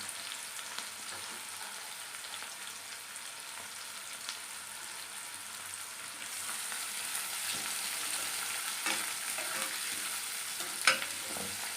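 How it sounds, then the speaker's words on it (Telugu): Onions fry in a pan for a gram-flour bajji curry, giving a quiet, continuous sizzle with occasional soft stirring scrapes, getting a little louder midway and with one brief sharp clack near the end. "ఇది బజ్జీలో కర్రీ కాబట్టి కొంచెం ఫ్రై చేసుకోవాలి ఆనియన్స్ మంచి వేగాలి"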